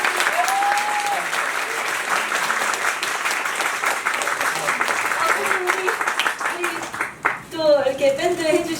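Theatre audience at a musical's curtain-call stage greeting claps steadily for the staff, a sustained wash of applause that thins toward the end as performers' voices and laughter come in.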